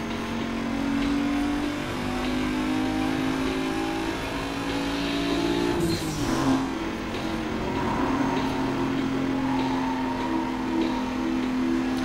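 A car drives steadily in Need For Speed Most Wanted, its engine holding a loud, continuous drone that dips and recovers briefly partway through.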